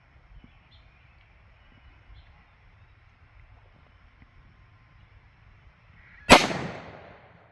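A single sharp gunshot from a Sig Nightmare 5-inch 1911 pistol firing 357 Sig ammunition outdoors, one loud crack with a short ringing decay after several seconds of quiet wind.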